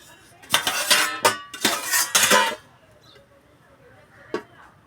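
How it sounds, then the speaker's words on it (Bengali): Metal cutlery clinks and scrapes against plates in a few quick bursts as hot chicken biryani is served, followed by quiet and one last faint clink. "গরম বিরিয়ানি থালায় বাড়া হচ্ছে"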